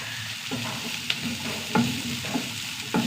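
Green chillies and curry leaves frying in hot oil, a loud steady sizzle with a few soft stirring scrapes, close and continuous, no voice.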